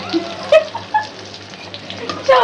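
Onions frying in oil for evening snacks, a steady soft sizzle with a few brief stirring clinks and scrapes, fairly close and moderately loud with no talk.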